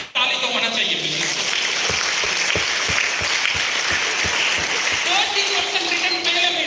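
An audience at a business seminar claps steadily in a dense, even patter that continues for several seconds, with a voice speaking over it.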